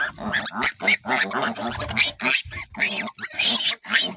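Piglets squeal and grunt in rapid, overlapping bursts, loud and close, with barely a pause between cries.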